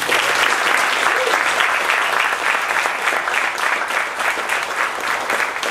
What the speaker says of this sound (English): You give a round of applause for Mom.